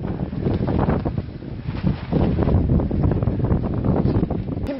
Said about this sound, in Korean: 지금 13호 태풍 꼰대의 영향으로 바람이 아주 매섭게 불고 있습니다